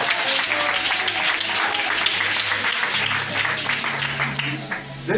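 A church congregation applauds and cheers during a testimony, steady dense clapping with crowd voices filling the whole stretch at close range.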